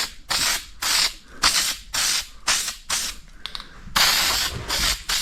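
Repeated bursts of aerosol spray paint hissing onto a two-stroke motorcycle exhaust pipe, about eight short blasts in a steady rhythm with brief pauses, close and fairly loud, with no talking.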